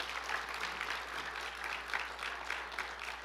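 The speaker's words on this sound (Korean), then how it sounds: "박수 한번 주셔주시면 감사해요." A church congregation at a Sunday evening service claps together in a soft, even round of applause from the pews, rippling steadily without speech.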